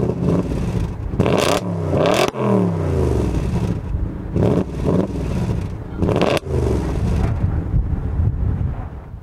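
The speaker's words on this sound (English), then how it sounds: "This engine screams." A 2014 Audi RS5 Cabriolet engine revs hard in repeated loud bursts, climbing and falling sharply between short lulls, with some wind buffeting on the microphone.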